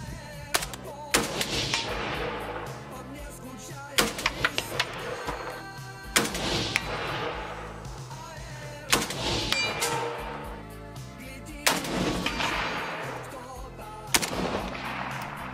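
A Zenitco SLR-106FR rifle fitted with an Armacon Volks flash suppressor fires about seven loud, sharp single shots spaced a couple of seconds apart, each followed by a short echoing tail.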